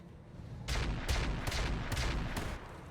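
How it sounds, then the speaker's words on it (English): Mech weapons fire in the BattleTech-based game RogueTech, four or five muffled booming shots in quick succession over a low rumbling bed, moderately distant and without speech. "That's some good shooting at the Fulcrum there."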